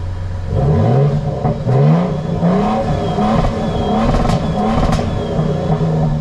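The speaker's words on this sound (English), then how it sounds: "TRD catback sport exhaust makes a really nice sound, especially when you put it on sport mode." A Toyota Tundra TRD Pro pickup's TRD catback sport exhaust revs repeatedly in sport mode, engine pitch climbing and dropping in loud surges, then settling into a deep throbbing drone.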